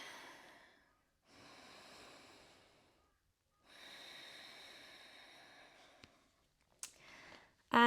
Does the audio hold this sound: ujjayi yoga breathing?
yes